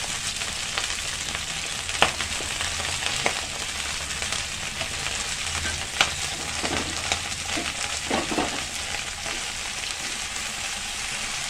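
Green chillies and mint leaves frying in hot oil in a pan, a steady close sizzle with scattered pops and crackles and occasional stirring scrapes, no voices.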